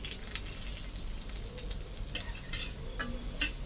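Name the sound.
semolina roasting and stirring in ghee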